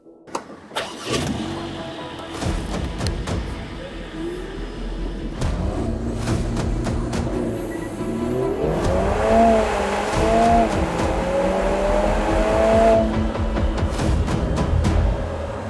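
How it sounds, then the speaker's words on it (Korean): A Lotus Emira four-cylinder engine revving up through the gears, rising pitch sweeps and a throaty growl, loud and close from inside the car. "현재 제가 타고 있는 에미라는 4기통 엔진이 탑재된 사양입니다"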